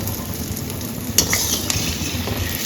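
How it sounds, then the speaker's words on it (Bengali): Dahi vada dumplings fry in hot oil over medium-low heat, a dense, continuous sizzle heard up close with a couple of faint utensil taps partway through and no talking. "এগুলোকে একদম মিডিয়াম টু লো হিটে আস্তে আস্তে ফ্রাই করে নেব"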